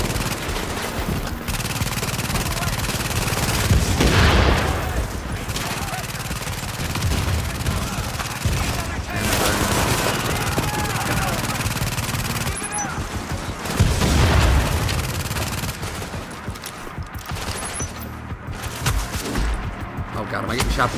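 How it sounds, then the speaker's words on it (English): Rapid automatic gunfire in The Division fires at the player from behind in dense, loud bursts, with someone talking over the shooting. "am I getting shot from behind again? I am."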